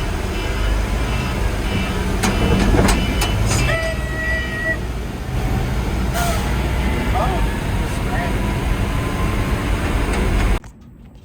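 An FMTV military truck, bought sight unseen and broken, drives with its throttle floored, producing a loud, steady, close engine roar with a brief tonal whine. People talk over it before the sound cuts off near the end.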